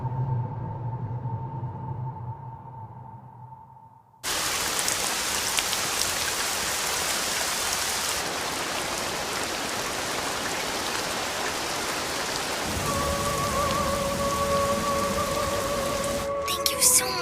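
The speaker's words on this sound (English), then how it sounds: "It looks like it's going to start raining soon." Steady, dense rain pours down after a brief quiet moment, a loud, even wash that continues without pause, with a faint tonal hum entering near the end.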